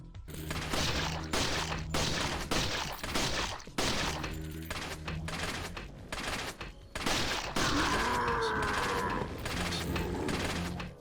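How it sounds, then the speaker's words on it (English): Handgun shots fired at a Garrador in Resident Evil 4 ring out one after another in close, sharp cracks, broken by brief pauses, with a clanking, metallic scrape late in the sequence. "The handgun takes 15 shots to kill this Garrador"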